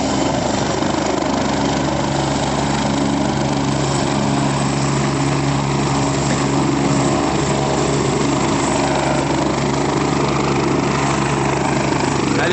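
Steady engine and rotor drone of a helicopter at the Kedarnath helipad, continuous and fairly loud throughout with no talk.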